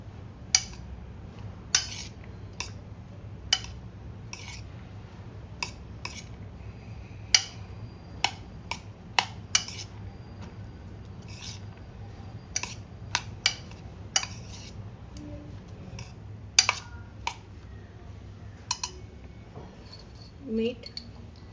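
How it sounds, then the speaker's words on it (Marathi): A spoon clicks and taps against a bowl while chopped raw green mango and onion are mixed, sparse sharp little knocks at an uneven pace over a quiet background hum. "आता हे व्यवस्थित दोन्ही मिक्स करून घ्यायचं आहे।"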